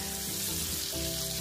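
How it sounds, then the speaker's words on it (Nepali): Onion, garlic and ginger fry in a pan for a mixed vegetable curry, giving a steady close sizzle with faint stirring under a background hum. "1 मिनट जति यतिकै भुट्छौँ है।"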